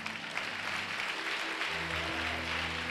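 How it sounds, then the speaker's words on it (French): A church congregation claps together in sustained applause, a dense patter of many hands filling the room while a low instrumental tone hums underneath. "Acclamez le Seigneur pour ça."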